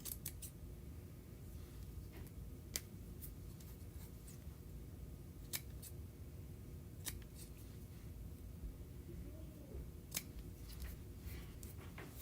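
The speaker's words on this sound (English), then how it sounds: "And I need to trim some of this length." Scissors snip through material during a Chalk Couture gnome craft project, giving a series of sharp, separate cuts at irregular intervals over a steady low background hum.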